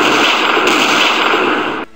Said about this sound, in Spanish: De pronto, sonaron varios disparos de un arma de fuego.